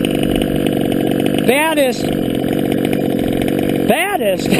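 A fully modded Losi 5B gas RC car engine screams at high revs without pause, with two sharp rising-and-falling rev sweeps, while a voice talks over the constant roar.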